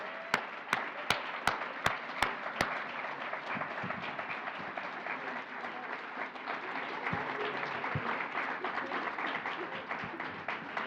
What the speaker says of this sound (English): come on up to a huge round of applause by everybody.